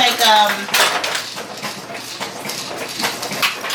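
A metal spoon clinks and scrapes against dishes while salt is measured out by hand, a busy run of close clatter with a voice heard briefly at the start.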